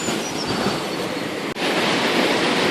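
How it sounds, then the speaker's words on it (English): The River Thames in flood at Abingdon in 2014 pours fast over a weir, making a loud, steady roaring rush of water that fills the whole clip, broken only by one brief dropout. "So, yeah, water, lots of water."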